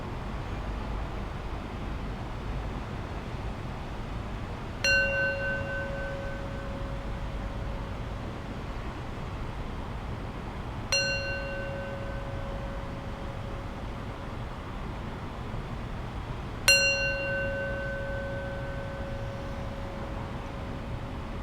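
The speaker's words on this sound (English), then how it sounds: "I'll close practice with 3 rings of the bell." A meditation bell rings three times at a slow, even pace, about six seconds apart, each strike clear and bright with a long sustained tone fading over soft background hiss, no voices.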